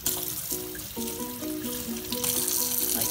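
Water runs from a tap onto a paper towel in a sink, a steady close splashing stream with a faint rising tonal ring as the towel soaks, no talking.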